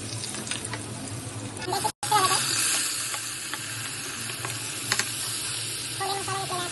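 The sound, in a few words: ginger garlic paste sizzling in hot oil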